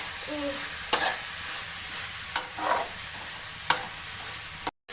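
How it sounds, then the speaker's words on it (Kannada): A spatula scrapes and stirs through leafy greens in a frying pan, with a few sharp knocks against the metal over a faint, steady sizzle. "ಸೊಪ್ಪು ಹಾಕ್ತೀನಿ ಈ ಥರ ಎಲ್ಲ ಸಣ್ಣಾಗಿ ತಿರುಗಿಸ್ಬಿಡುತ್ತೆ"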